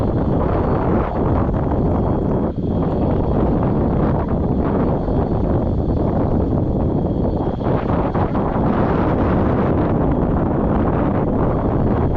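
Steady, loud wind buffeting the microphone outdoors while fishing for trout in a grassy channel, a constant broadband rush with no one talking.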